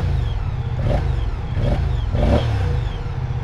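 A Moto Guzzi V100 Mandello S with the stock exhaust revs up hard three times in quick succession, each surge rising and falling over a loud, close engine note that continues without a break.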